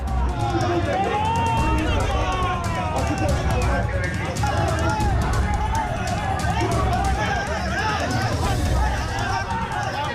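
A loud, dense crowd runs and shouts in pursuit of BJP leader Dilip Ghosh on the Bhawanipur by-election campaign trail in Babu Bazar. Continuous clamor of many voices and hurried movement fills all ten seconds without a break.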